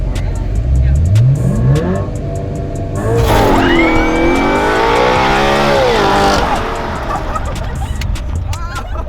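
A race car launches hard with launch control: the engine holds a steady, buzzing rev, then surges in a loud rising and falling roar as it pulls away. Voices talk in the cabin around it.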